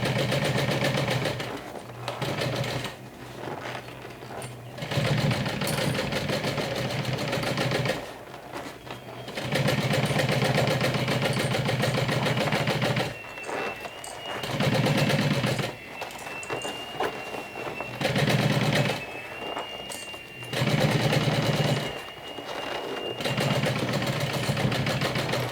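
Stitching on a handbag, a sewing machine runs in several bursts of steady, fast mechanical chatter, each lasting a few seconds and separated by short pauses, sounding close and fairly loud with no talking.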